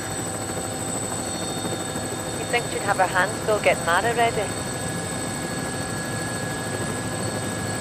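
A helicopter in flight, a steady droning rotor and engine hum throughout, with two people talking briefly over it.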